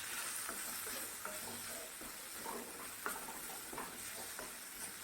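Fried okra is stirred and sautéed in a spiced tomato curry, giving a steady close sizzle with repeated scraping stir strokes.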